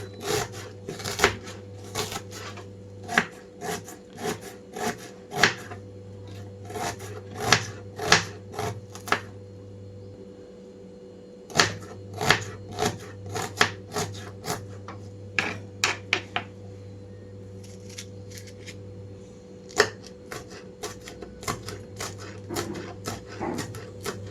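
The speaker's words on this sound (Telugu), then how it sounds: "ఇక్కడ నేను ఉల్లిపాయలన్నీ చాలా సన్నగా కట్ చేసి పెట్టుకుంటున్నాను" Onions and green chillies are finely chopped with a knife on a board: quick, crisp close-up taps in rapid runs, broken by short pauses, with no talk.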